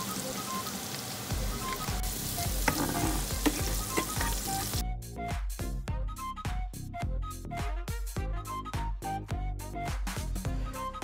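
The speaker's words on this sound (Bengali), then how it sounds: "তো তেলটা গরম হয়ে গেলে আমরা বাগারটা দিয়ে দিলাম।" Whole spices for tempering hit hot oil and sizzle loudly and steadily up close, then settle into rapid, crackling pops and spatters.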